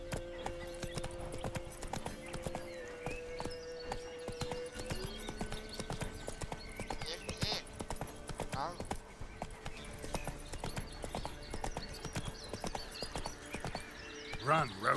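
Roach the horse runs in the video game Witcher 3, with rapid, steady clip-clop hoofbeats throughout, a short neigh near the end, and speech over music.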